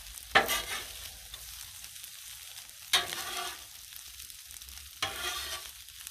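Shrimp fried rice frying on a Blackstone griddle, with three sharp bursts of loud sizzle as food hits the hot surface, each fading into a softer steady hiss.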